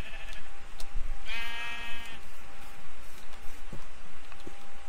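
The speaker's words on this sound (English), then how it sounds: "Oh, I thought that was just a sheep." A sheep in the Minecraft video game bleats once in a clear, wavering call that stands out over steady game background noise, with no talk alongside it.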